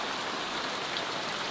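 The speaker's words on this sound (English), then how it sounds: "First time it's rained in like literally about 2 months." Steady rain falls throughout, a dense, even patter of drops on a surface with no voices over it.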